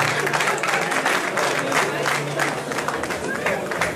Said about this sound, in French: On applaudit pour Grace Desca, s'il vous plaît.